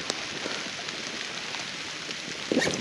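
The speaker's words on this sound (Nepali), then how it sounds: "पानी परेको कारणले हामी ओतमा जाँदै है" Rain falls outdoors during a motorbike ride near Lekhnath, Nepal, a steady close hiss of drops with no talk and a slightly louder patch near the end.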